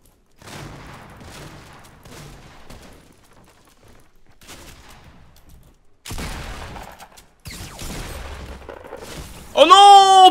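Shotgun fire in Fortnite, loud bursts of gunfire and impacts in an intense fight, several shots in quick succession with a sharp rising effect at the end.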